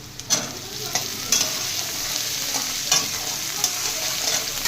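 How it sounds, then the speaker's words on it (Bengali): Potatoes fry in a pan with onion, chili and garlic, a steady hiss of sizzling punctuated by roughly regular clicks of a spatula stirring about once a second. "আলুটা একটু ভাজা করে নিচ্ছি।"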